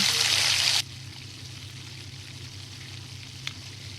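Chopped onion, whole garam masala, bay leaf and green chillies frying in hot oil. A loud, hissing sizzle opens, then drops suddenly to a steady, softer crackle that runs on with a faint tap near the end.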